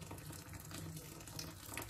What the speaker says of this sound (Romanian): Torn apă fierbinte și o pun să clocotească un pic și apoi o stâng.